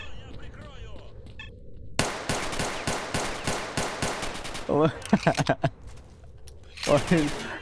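Rapid automatic gunfire in STALKER: Shadow of Chornobyl, dense bursts of close shots cracking one after another, then a tight volley, with a voice speaking and laughing between the bursts.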